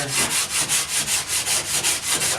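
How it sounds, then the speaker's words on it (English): Rough-grit sandpaper rubs back and forth over the inside of a wooden Adirondack guideboat, close and fairly loud, in about ten rhythmic strokes with no talk. "I go over the whole inside of it with the rougher grit, just to blend in any tool marks that might be there"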